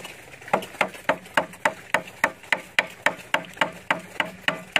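Steady, evenly spaced hard taps, about three per second, knocked near a frog-rearing pond at feeding time to gather the frogs, close and crisp with no talking.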